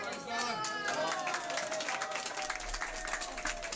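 A crowd in Pakistan claps and cheers to welcome the arriving fighting-game legend Knee, a dense, steady wash of applause with voices talking over it throughout.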